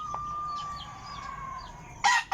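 Backyard chickens at feeding time, a rooster crowing near the end after a long, thin call and a few soft clucks, fairly close and alone with no talk.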